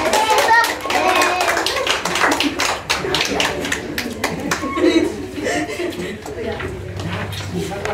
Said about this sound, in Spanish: ¿Pueden dar su aplauso?